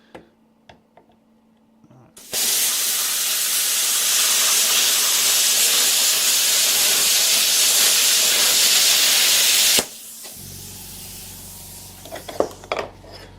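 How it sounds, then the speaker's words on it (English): A plasma cutter slices through metal in a shop, starting after a few quiet clicks with one loud, continuous roaring hiss for about seven seconds before stopping abruptly, followed by light clatter. "this plasma cutter definitely beats a grinder, that's for sure"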